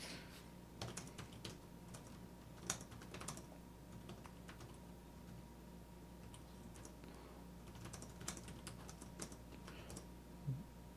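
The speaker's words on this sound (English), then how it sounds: "when I'm typing quickly" Someone types quickly on a computer keyboard, soft irregular bursts of key clicks with short pauses between flurries, faint and close.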